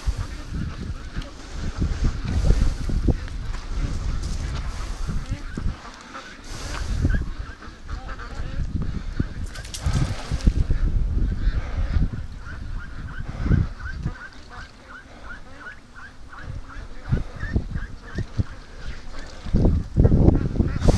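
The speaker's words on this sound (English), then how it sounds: "Ducks in the water" Ducks on the water at a free-range flock's feeding spot honk and quack repeatedly over the whole stretch, close and fairly loud, with irregular bursts and a few moments of quieter water ambience.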